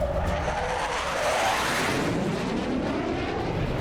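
A fleet of airplanes passing overhead, a steady broad roar that swells slightly and holds throughout, with no voices.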